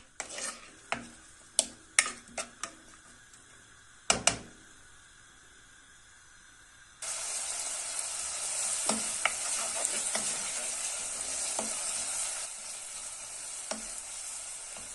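A spoon clacks against a pot a few times, then a steady loud sizzle of onions frying for soup takes over, with occasional stirring scrapes.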